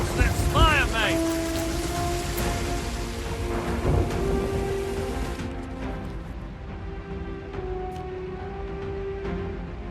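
Calypso's lightning and thunder in Sea of Thieves crack over steady rain and storm rumble, accompanied by swelling tonal music with rising swoops, continuing as a long wash of rain and thunder.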